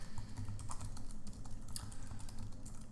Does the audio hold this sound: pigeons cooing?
no